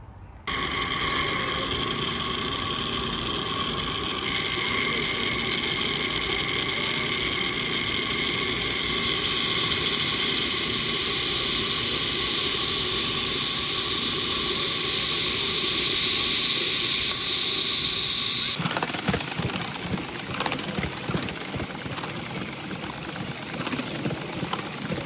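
A model steam locomotive running at a park, with rattling crossheads and die blocks, gives a steady, loud hiss of escaping steam over a mechanical chuffing rattle, with a shift in tone near the end.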